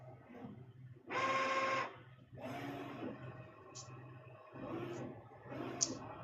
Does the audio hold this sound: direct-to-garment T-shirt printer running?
yes